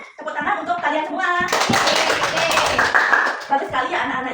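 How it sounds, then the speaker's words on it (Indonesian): Children in a classroom break into a burst of lively applause lasting about two seconds, framed by an adult voice speaking before and after. "tepuk tangan untuk kalian semua"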